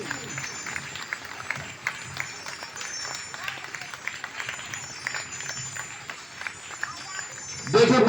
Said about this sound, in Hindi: एक बार जोरदार तालियां बजाए महाराज श्री के लिए। तालियां रुकनी नहीं चाहिए।